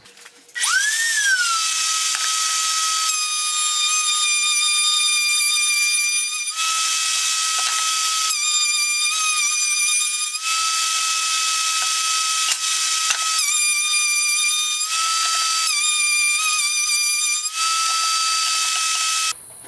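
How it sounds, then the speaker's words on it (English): A router cutting a dado in wood for an 8-frame medium honey super, a loud high-pitched whine that runs continuously, dips briefly between passes and shifts in pitch as it bites, heard close with no talking. "we're going to be using a router though, just because that's what we use"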